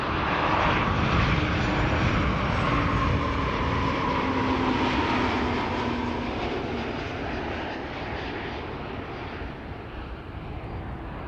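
An Atlas relocation flight aircraft from Ostend at Amsterdam Schiphol Airport produces a broad, steady jet engine roar that is loud at first and slowly fades, with no voices.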